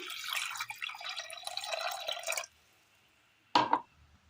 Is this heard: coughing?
no